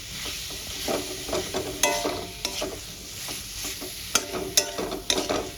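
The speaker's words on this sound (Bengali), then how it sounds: "ভেজে রাখা আলু আর পটলটা দিয়ে দেবো মশলার সঙ্গে" Fried potatoes and pointed gourd being stirred into spices in a pan, a steady sizzle under repeated close spatula scrapes and knocks with no voices.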